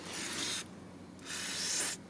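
Two bursts of hissing brake-cleaner spray and cloth wiping come from cleaning a transmission part on a 2015 Nissan Versa Note. The broad rushing hiss lasts about half a second and then roughly three-quarters of a second, with a short pause between, close and fairly quiet.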